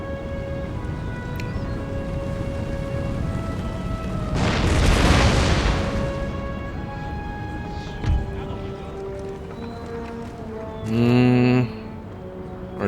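A single deep boom of artillery fire rolls out for a couple of seconds in the Empire Total War video game, amid steady background game ambience with faint later thuds and a short tonal sound.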